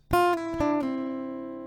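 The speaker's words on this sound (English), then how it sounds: "And now you have this short little bridge melody to the next round." A brief acoustic guitar phrase of three quick plucked notes, stepping down in pitch, the last one left ringing softly.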